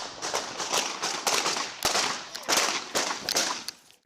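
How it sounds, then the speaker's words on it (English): A rapid string of sharp cracks and pops, like gunshots fired in quick succession, loud and close, with no talking. "Gunfire broke out."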